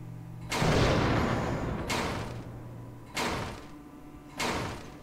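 Four heavy, booming gunshots at a shooting range in Fahrenheit: Indigo Prophecy, evenly spaced over a few seconds, each a loud close blast with a long decaying tail and no talk.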